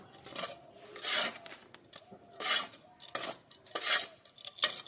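Neem cake fertilizer gets worked into potting soil for repotting a hibiscus, heard as about five or six close, gritty scraping and rubbing strokes separated by brief pauses.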